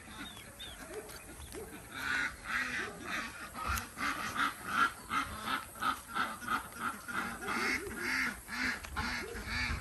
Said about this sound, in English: Right now I'm just gonna let the birds out and enjoy nature.